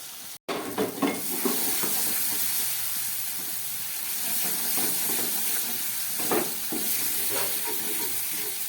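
Fish curry masala with slit green chillies sautéing in oil in a pan for rohu fish jhal, a steady close sizzle with intermittent stirring scrapes throughout.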